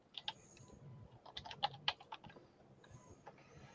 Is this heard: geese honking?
no